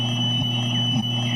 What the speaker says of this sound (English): Don't wait until your garage door sounds like this.